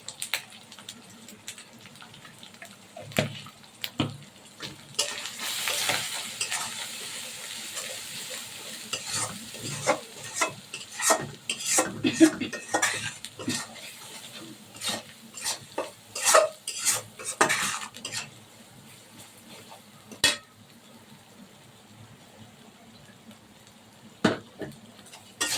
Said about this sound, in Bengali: কিছুক্ষণ মশলা কষাইতে হবে।